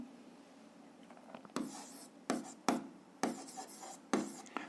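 Handwriting on paper during a seventh-grade physics lesson, a pen scratching out a line of notation in several short, distinct strokes and bursts, close up and fairly quiet, with no talking over it.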